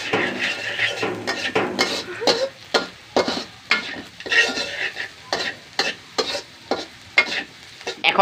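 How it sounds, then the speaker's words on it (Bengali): Chili paste for fried rice is sautéed in a pan, with a low sizzle under a brisk, repeated rhythm of spatula scrapes and clinks against the metal, close and without speech. "এই যে ভালো মতন এখন কষিয়ে নিচ্ছি আমরা।"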